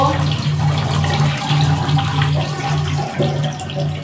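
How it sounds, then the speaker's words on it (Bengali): Water from washing shrimp claws being poured off in a home kitchen, a steady running, splashing stream with a low hum beneath it, continuous and close. "ধুয়ে জলটা ফেলে দাও।"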